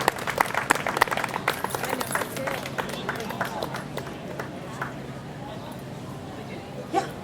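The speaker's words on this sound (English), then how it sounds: "let's give her all a round of applause" Applause from a community crowd at a mayor's commendation ceremony during the Fishawack 2024 festival in Chatham Borough, a dense burst of clapping that is loudest at the start and tapers off, with voices mixed in.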